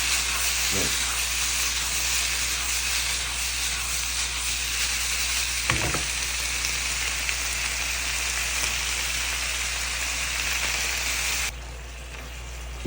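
Pork cartilage, either spatula-bone or glass cartilage already boiled with salt, stir-fried in a hot pan, giving a steady close sizzle and hiss with a few brief scraping knocks throughout.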